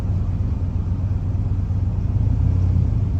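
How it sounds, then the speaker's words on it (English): Car engine rumbling steadily close by on a frosty drive after a below-freezing cold start, a low continuous drone swelling slightly toward the end, with no clear turbo whistle standing out. "Turbo noises."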